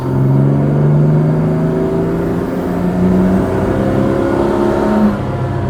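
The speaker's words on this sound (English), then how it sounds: "Let's take it for a brief little test drive and see how it does." A Jaguar Mark 2 accelerating in low gear on a private road during a test drive, its engine revving steadily and loudly with a rising whine that climbs and holds.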